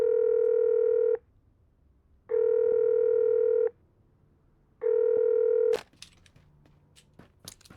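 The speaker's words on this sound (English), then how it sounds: "Why the fuck is this phone ringing?" A telephone ringing in the video game MIMESIS: three long, steady electronic tones about a second each, separated by pauses, followed by scattered clicks and clatter.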